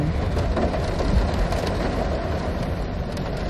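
Rain falls steadily in a dense hiss with a low rumble underneath, heard close and continuous with no talk.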